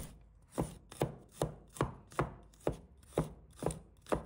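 Garlic cloves sliced with a knife on a cutting board, about nine crisp, evenly spaced chops in a steady rhythm, close and clear with no voices.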